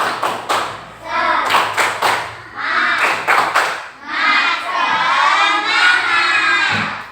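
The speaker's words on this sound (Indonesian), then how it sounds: "1, 2, 3, tepuk semangat" A school class does a rhythmic group spirit clap, bursts of clapping in patterned groups with children's shouted chant between them, close and loud, ending in a longer sung or shouted phrase.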